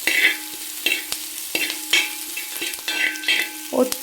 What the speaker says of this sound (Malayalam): നമ്മുടെ ഈ ക്യാരറ്റും ബീൻസൊക്കെ വെന്ത് വരണമല്ലോ നന്നായിട്ട് ഇളക്കി കൊടുക്കാം